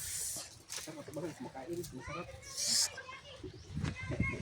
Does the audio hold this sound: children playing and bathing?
yes